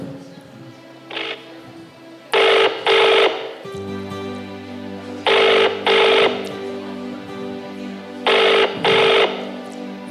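Unanswered phone call during a night-time conference call for a youth Christmas event: repeated paired ring bursts, three double rings spaced evenly, close and clear over a steady low hum.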